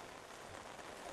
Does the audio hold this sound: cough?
no